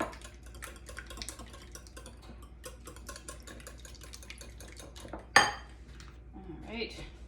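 Faint clinking and scraping as ingredients and sour cream are stirred in a bowl in a home kitchen, with a soft stir sound throughout, one sharp clatter near the end, and a voice murmuring briefly afterward.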